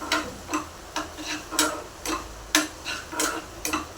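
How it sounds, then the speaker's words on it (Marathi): Tomato chutney paste being stirred and sautéed in a pan, a spoon scraping in steady repeated strokes about every half second, close and clear over a faint sizzle. "तीही चांगली परतून घेऊया दोन मिनिटभर आपण हलवून घेऊया चटणीला"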